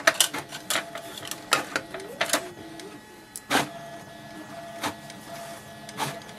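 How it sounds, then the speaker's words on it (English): A Brother MFC-J497DW inkjet all-in-one printer running off a copy, giving close, irregular mechanical clicks, clacks and short whirring feeds across several seconds with no voices. "just wait for the printer to print"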